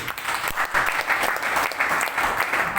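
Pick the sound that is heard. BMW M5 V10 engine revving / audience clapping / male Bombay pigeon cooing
audience clapping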